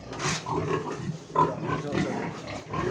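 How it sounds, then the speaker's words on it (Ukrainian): Grunts and snuffles from breeding sows in a farm pen, rough bursts coming one after another at close range with no speech. "Дуже класні свинки."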